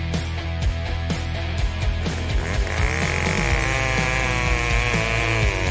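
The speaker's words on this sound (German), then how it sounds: "jetzt kommt die Kettensäge" Chainsaw engine drones loud and continuous, its pitch climbing partway through as it cuts into a cookie, with repeated rough bursts of cutting.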